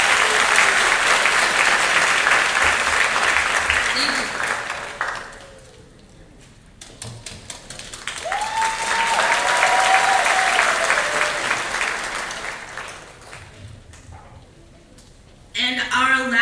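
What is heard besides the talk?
audience applause for Marcel Rivas at graduation ceremony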